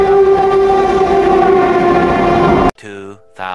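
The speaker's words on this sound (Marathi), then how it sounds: "फायनली ट्रेन आली" A Mumbai local train pulls into the station, a loud sustained horn-like tone droning over rumbling motion, then cutting off abruptly into a few shorter tonal blasts near the end.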